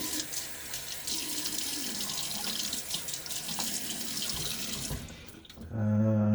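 A bathroom tap runs steadily in hard water while someone lathers for a wet shave, a continuous close hiss of flowing water that cuts off near the end, leaving a brief low hum.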